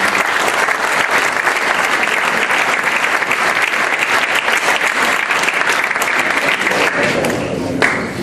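A political meeting audience breaks into loud, sustained applause, dense and continuous from start to finish.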